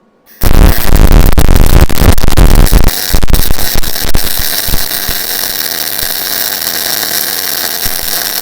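An Omni Pro 220 wire-feed welder running at wire feed speed 370, a loud close harsh crackling sizzle that starts abruptly and holds steady, sputtering with irregular pops, no voices.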